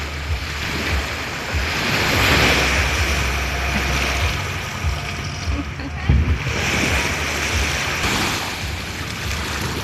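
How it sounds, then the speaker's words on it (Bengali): Large sea waves wash in at a Phi Phi Island beach, a continuous loud surging roar with wind buffeting the microphone throughout and a few swells rising above it. "মাঝে মাঝে অনেক বড় ঢেউ আসছে"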